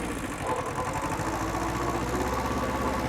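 An old Japanese 4x4 tractor engine runs at a steady mid-pitched idle, close and continuous, with a mechanical clatter as it is shifted into gear.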